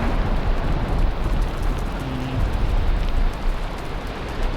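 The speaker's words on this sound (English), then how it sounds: "Oh, look, it's raining." Steady rain in the survival video game Valheim hisses as a continuous broadband wash with a low rumble underneath, holding at an even level throughout with no voices.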